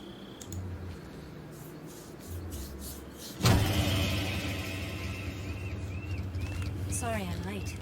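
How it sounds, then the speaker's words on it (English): Vehicle engine in the Metal Gear Solid 3 video game: a steady low rumble runs under game sounds and brief voices, then a loud start surge near the midpoint settles into a sustained drone with a rising whine near the end. "Cut the engine. They'll hear us."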